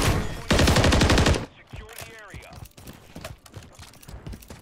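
Sniper rifle shots in a competitive hardpoint video game match: a dense, loud burst of rapid gunfire near the start, then quieter game effects and intermittent player talk.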